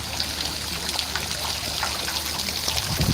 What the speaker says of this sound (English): The water is not generated by a pump. It's all gravitational